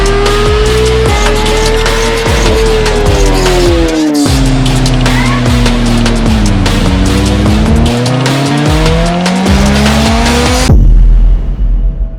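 A 2021 Kawasaki ZX-10R fitted with an SC Project exhaust revs hard on a dyno, a loud, close, sustained engine howl that sweeps up and down in pitch before cutting off abruptly near the end.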